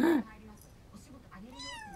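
A pet cat gives a sharp, loud meow at the start, then softer, drawn-out mewing follows close by in a quiet indoor room.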